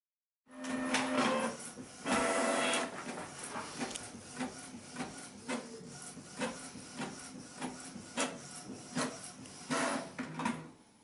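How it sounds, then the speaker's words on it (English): A Canon MegaTank G3270 wireless inkjet printer runs a sample printout, with a rhythmic series of mechanical whirs, clicks and paper-feed knocks that start abruptly and continue close and fairly loud. "Let's take a sample printout."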